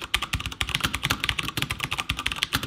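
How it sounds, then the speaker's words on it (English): Rapid, even typing on a CoolerMaster MasterKeys MK750 mechanical keyboard with Cherry MX switches, a dense stream of close, crisp key clacks with no talking. "Obviously with the MX switches, typing on this thing is an absolute breeze"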